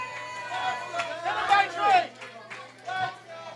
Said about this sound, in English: you hear the crowd saying, let's go night train